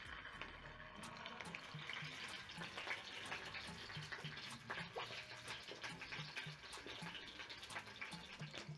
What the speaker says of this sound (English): Start off by adding some oil to a pan. Add in my sausages.